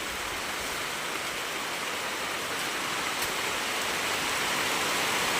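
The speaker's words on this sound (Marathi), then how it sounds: "पाऊस काय मस्त पडतोय" Steady, dense rain hissing without a break, even and fairly loud, with no voices.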